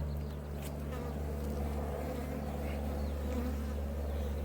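Honey bees buzz steadily at an open hive in an apiary, a dense continuous drone with occasional nearer passes of individual bees, no talking.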